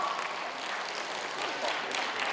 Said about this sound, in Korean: 큰 박수 주시면 만나볼게요